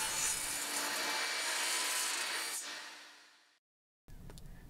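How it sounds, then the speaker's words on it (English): A table saw cuts deck boards to length, a loud steady whine and rasp of the blade through wood that fades away and stops, followed by brief workshop noise. "I had to use my table saw here"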